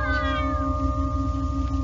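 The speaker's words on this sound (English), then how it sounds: "What's that racket? Just cats." Cats yowl in a sustained, wavering caterwaul, loud and close over a steady low hum, with no talk over it.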